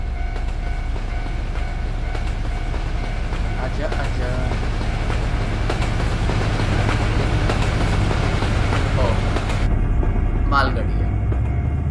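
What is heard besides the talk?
Japanese freight train passing in Euro Truck Simulator 2 (video game)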